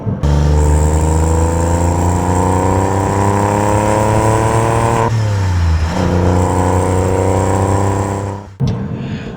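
Porsche 911 996.1 Carrera with a 3.4-litre flat-six drives at steady speed, its loud engine drone holding strong harmonics throughout, shifting pitch briefly midway, then cutting abruptly near the end.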